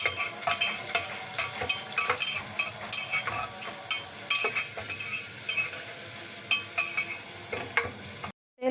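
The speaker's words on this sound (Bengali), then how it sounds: "তেল গরম করে পেঁয়াজ রসুন প্রেসার কুকারে দিয়ে দিয়েছি। নাড়াচাড়া করব" Onion and garlic fry in hot oil inside a pressure cooker with a steady sizzle. A spoon scrapes and clinks against the metal in repeated stirring strokes, then cuts off into a moment of silence.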